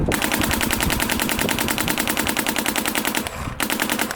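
A paintball marker fires in cold weather in a fast, continuous stream of sharp pops, loud and close, with a brief break in the rhythm before the rapid shots resume.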